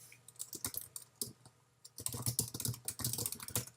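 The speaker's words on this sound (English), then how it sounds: "we're probably going to want to type in that scroll" Keystrokes on a computer keyboard tap out in quick irregular bursts, a short run, a brief pause near two seconds, then a denser steady stretch of typing, close and clear with no voices.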